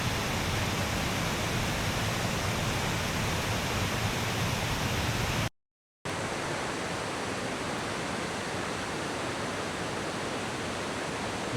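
Rhaeadr Ddu waterfall near the top of the falls, a heavy, constant rush of falling water close by, broadband and unbroken apart from a brief cut midway.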